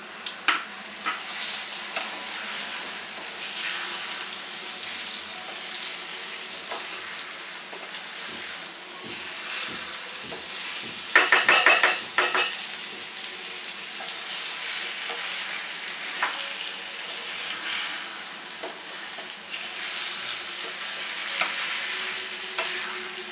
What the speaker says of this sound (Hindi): चावल को थोड़ा भूनेंगे इसमें मसाले में,